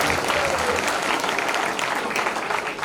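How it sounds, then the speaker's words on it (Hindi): Listeners at a Hindi comedy poetry recital break into sustained applause, a dense, fairly loud crowd clapping that carries on evenly from start to finish. "आप ताली बजाइए"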